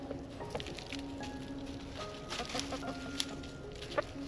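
Backyard garden chickens cluck softly and intermittently at close range, short clucks and a few sharper notes scattered over a quiet outdoor background.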